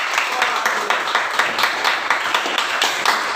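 A classroom of students claps for a fellow student, a dense burst of many hands beating in a quick, slightly uneven rhythm that stays steady and fairly loud throughout.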